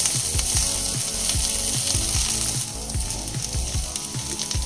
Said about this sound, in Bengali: নেড়ে চেড়ে ভেজে নিয়েছি।